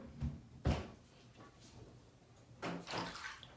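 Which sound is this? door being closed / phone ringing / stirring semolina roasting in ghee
door being closed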